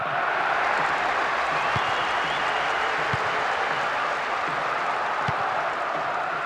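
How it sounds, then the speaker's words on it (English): Stadium crowd in Winning Eleven 2008 football match, a dense steady roar of massed voices chanting rhythmically, continuous and full throughout with a few low thumps underneath. "The rhythmic chanting of the crowd."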